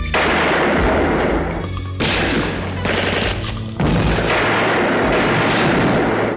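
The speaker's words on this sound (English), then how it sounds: "they just go to the bad guy's warehouse and they shoot everybody." Loud gunfire rings out in a movie shootout at a warehouse, dense overlapping bursts and booms running continuously with brief gaps between volleys.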